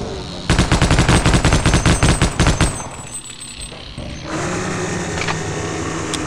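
Mounted guns in Half-Life: Opposing Force fire a rapid, loud burst of evenly spaced shots lasting about two seconds, then fall quiet before a steady mechanical hum rises.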